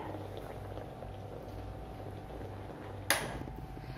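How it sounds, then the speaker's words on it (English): Water being heated in a classroom science demonstration boils with a steady, close bubbling hiss, and a single sharp clink sounds near the end; nobody speaks. "the water changes into water vapor by heating"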